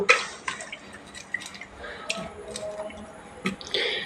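Freshly cut potatoes being rinsed in water by hand, with faint drips, splashes and squishy handling noises coming in scattered bursts, close by and quiet.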